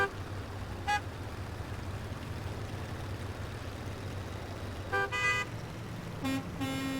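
Several car horns honk in the video game Everything, two or three short bursts over a low steady hum, the later toots overlapping and louder, with quiet gaps between.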